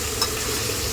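Country chicken curry sizzles in a pan with a dense, continuous frying hiss and two brief stirring clicks. The sound is close and fairly loud.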